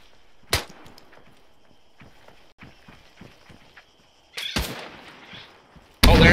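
Gunfire and a grenade explosion in the ARMA 3 video game: scattered sharp shots and faint thuds, one burst mid-way, then a loud sudden blast at the end.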